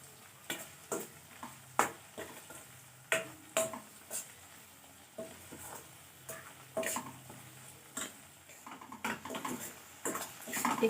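Mustard seeds fry in a pan for a raw green chilli pickle, giving a close, steady sizzle broken by repeated sharp scrapes and clicks of stirring.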